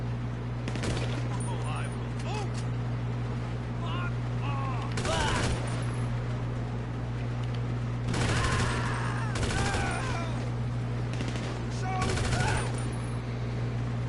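Automatic gunfire rattles in Grand Theft Auto gameplay, several bursts of rapid shots spread across the span over a constant steady hum, with voices talking between bursts.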